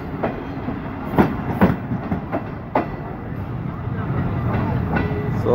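An FJR special train departs from a railway station. Rhythmic wheel clacks and a low rolling rumble sound at moderate distance, with sharp clanks scattered over the steady noise.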